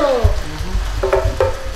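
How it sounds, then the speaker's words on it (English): Oil sizzles and crackles in a pan with tomato sauce for baked jollof rice, with stirring clatter and a couple of short tonal squeaks; steady frying noise throughout, close and moderately loud. "What's a sizzle? Sizzle, sizzle."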